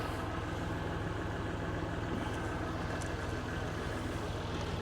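A farm tractor engine idles nearby during collision repair on a 2003 Holden VY Storm ute, a steady low rumbling throb that stays even and fairly quiet throughout, with no voices.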